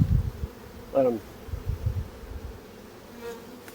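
Honey bees buzz around an opened hive during a frame inspection, with a brief nearby buzzing pass over low handling noise and rustling, fairly faint and close.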